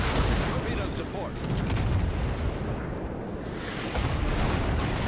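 Naval guns in a warship video game fire armor-piercing shells, heard as heavy booming blasts and rumbling reports over a dense wash of battle noise. Two louder volleys stand out near the start and toward the end.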